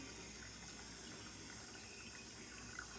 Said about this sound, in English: You drinking all the water?